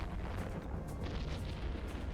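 Space battle in EVE Online with ship explosions rolling on continuously, a dense low rumble of overlapping booms and bursts heard loud and unbroken.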